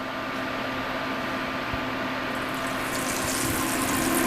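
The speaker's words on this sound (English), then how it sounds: "See how it's bubbling? This oil is ready for frying." A loud, steady sizzle of hot frying oil bubbling continuously up close, ready for chicken parm, with a constant hiss and low hum and no voices.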